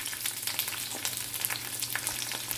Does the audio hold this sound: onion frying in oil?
yes